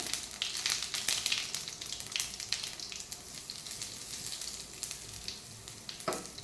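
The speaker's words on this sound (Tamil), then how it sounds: "ஆயில் ஹீட் ஆகிடுச்சு. கடுகு போட்டுக்கலாம், ஜீரகம், பெருங்காயம் கொஞ்சம் போட்டுக்கலாம்." Mustard seeds, cumin and asafoetida sizzle and crackle steadily in hot oil, with continuous close frying hiss and small pops throughout.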